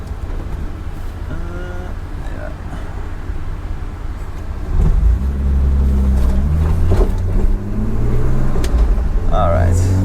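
A BMW E28 with a swapped M50B25 inline-six, Schmiedmann headers and a 3-inch stainless exhaust, driving: low engine drone under a man's speech, then a louder, deeper rise in engine note after the midpoint.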